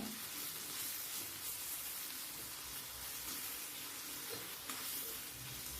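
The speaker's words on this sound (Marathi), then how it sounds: "टमाटा पण आपल्याला तेलावर छान परतून घ्यायचा आहे बघा अशा पद्धतीने।" Finely chopped tomato sautéing with onion in oil in a pan, a soft continuous sizzle with faint stirring, fairly quiet and steady, no voices.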